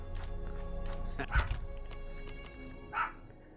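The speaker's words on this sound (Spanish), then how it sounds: "Hay un perro ladrando aquí a mi lado." A real dog barks close by the player, giving a few sharp yips spaced apart over quiet, low game sounds from Resident Evil 4 Remake.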